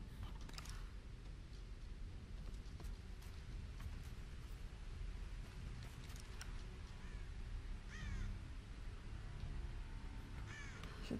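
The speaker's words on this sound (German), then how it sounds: "jetzt hier Raben" Ravens cawing in the video game Tomb Raider (2013), a few harsh calls spread across the stretch over a low rainy ambience, fairly faint and without speech.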